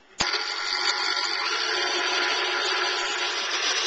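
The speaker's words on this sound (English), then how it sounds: "So here's the eggs whipping away." A stand mixer whisks six egg whites for pavlova at a high speed setting of 8. It starts abruptly with a loud, steady, even whir that holds unchanged throughout, with no talking.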